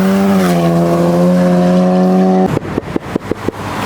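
Polo GTI running a Golf R turbo setup, engine note holding steady before lifting off into a rapid string of sharp exhaust pops and crackles, loud and close.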